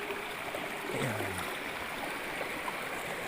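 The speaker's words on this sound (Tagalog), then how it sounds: "At least dito maririnig mo lang talaga yung lagaslas ng tubig" A river flows in a steady, rushing wash of water that is fairly close and continuous, with a brief low murmur partway through.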